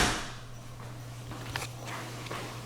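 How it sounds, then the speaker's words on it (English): A hotel room door swings shut in a handicapped-accessible room at a Wyndham Garden in College Station, Texas, giving a soft click and thud in a quiet room with a low steady hum, and no talking. "I'm going to get a much better view of it when I close the door."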